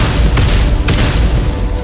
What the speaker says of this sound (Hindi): तोपों की गर्जना